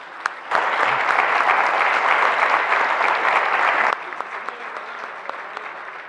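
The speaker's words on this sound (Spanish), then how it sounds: "quisiera brindarnos un aplauso a nuestros expositores" Seminar attendees applaud the presenters of a tax reform talk, a sudden burst of loud, even clapping that holds steady for about three seconds, then drops to a softer scattered patter.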